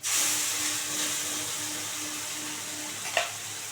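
Ground spice paste from the mixer hitting a pan of fried onions for a dhaba-style egg curry, a steady close sizzle with a brief clatter near the end and no talk.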